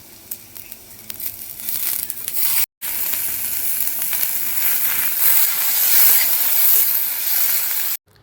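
Chopped onion and tomato frying in a pan for a simple egg bharta, giving a loud, steady, close hiss and sizzle that cuts out briefly twice.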